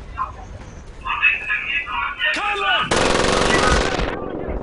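Bursts of rapid machine-gun fire and other shots in the WWII shooter Medal of Honor Pacific Assault, ending in a dense, continuous volley, with game voices and clatter underneath.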